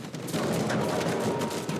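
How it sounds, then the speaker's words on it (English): Gunfire from the video game Uncharted 4 comes in a brief, steady crackle of rapid shots, moderately loud and a little distant, with no talking. "Shots being fired here don't actually come near me"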